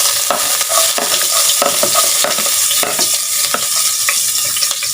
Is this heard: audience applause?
no